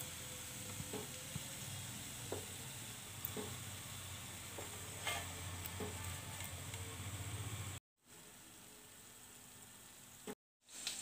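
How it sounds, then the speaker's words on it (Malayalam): Quail pieces deep-frying in hot oil make a steady close sizzle with occasional stirring clicks, cut by two brief silent gaps before the frying resumes. "അപ്പോൾ നമ്മുടെ കാട ഫ്രൈ ഇവിടെ നന്നായി ഫ്രൈ ആയി വന്നിട്ടുണ്ട്. ഇനി നമുക്കിത് എണ്ണയിൽ നിന്ന് കോരിയെടുക്കാം."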